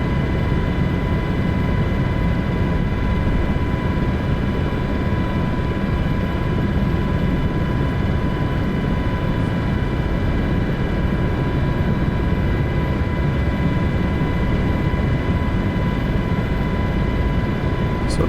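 A helicopter flies over the Pyramids of Giza, its dense, steady rotor and engine roar constant and loud throughout with tonal whine on top and no breaks.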